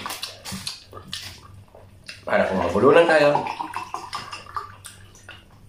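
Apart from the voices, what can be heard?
pouring drinking water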